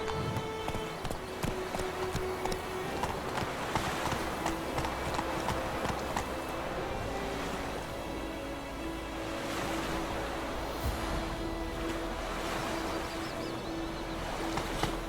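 Roach the horse gallops in The Witcher 3, a steady run of hoofbeats under a wash of surf-like ambience, continuous and moderately near throughout.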